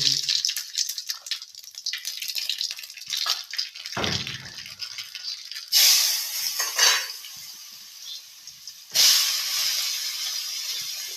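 Cumin and mustard seeds hit hot oil for a masala potato dish, giving a steady sizzling hiss with crackling. It surges loudly twice as more goes into the pan, with no talking.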